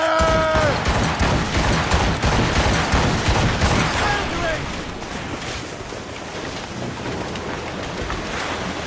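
Ship cannon volley from a naval battle in Assassin's Creed Rogue, a dense burst of booming blasts over wind and ocean surf, fading into rushing waves and wind.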